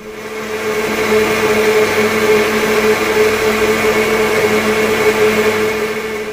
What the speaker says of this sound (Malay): bahan-bahan ni saya akan blender